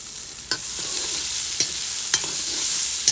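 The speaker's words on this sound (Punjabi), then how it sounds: "ਲਓ ਜੀ ਤੜਕਾ ਆਪਣਾ ਹੋ ਗਿਆ" Tempering for kadhi sizzles loudly in a pan, a continuous close hiss broken by a few quick stirring scrapes, with no voices.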